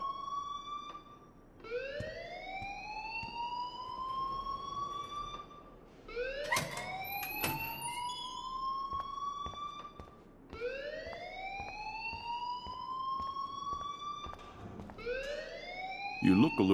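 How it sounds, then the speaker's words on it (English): A school alarm in the Life is Strange video game wails in repeated rising electronic sweeps, loud and steady, with brief crackling bursts between the cycles. "please turn off that alarm since that's your job."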